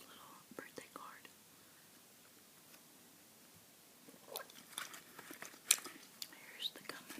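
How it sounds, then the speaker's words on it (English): Trident bubble gum is chewed near the microphone, giving soft moist smacking and clicking sounds with a few sharper snaps, mixed with faint whispering and quiet breathy pauses. "Here's the gum I'm chewing tonight, by the way. Trident. Bubble gum."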